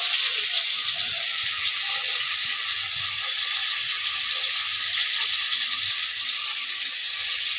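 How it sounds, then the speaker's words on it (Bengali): Chopped onions and potatoes frying in hot oil for a brinjal and potato curry: a steady, dense sizzle running continuously at even volume, close to the pan, with faint utensil movement underneath. "আলুগুলো ভাজতে ভাজতে আমি তার সঙ্গে দিয়ে দিচ্ছি পেঁয়াজ কুচি।"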